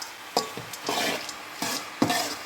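Crushed peanuts stirred into a pot of yellow pumpkin and bottle gourd kootu, a few close scraping strokes of a spoon against the pan with a soft sizzle underneath and no voices.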